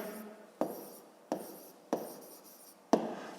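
Pen strokes scratching across notebook paper while working a fifth-grade maths exercise, four short bursts of writing, each starting with a sharp onset and trailing off, close and fairly quiet with no talking.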